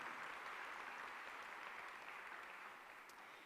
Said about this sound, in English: Big round of applause, Ms. Jackie Houghton, our wonderful assistant principal